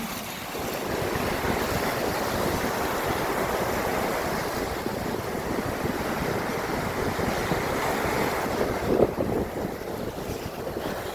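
Sea waves wash on the shore in a continuous, steady roar mixed with wind buffeting the microphone, even in level throughout with no voices.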